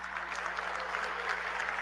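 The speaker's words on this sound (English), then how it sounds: "A lot of claps." An audience claps steadily throughout, a dense, even wash of applause from a sizeable crowd at a political talk, with no single voice standing out.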